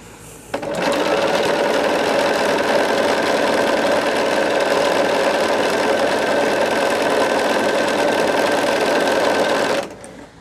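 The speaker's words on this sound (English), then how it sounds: "I'm going to be sewing past my bedtime." A sewing machine stitches quilt sashing in one continuous run of fast, even mechanical whirring and clatter, loud and close, starting abruptly and stopping cleanly after about nine seconds.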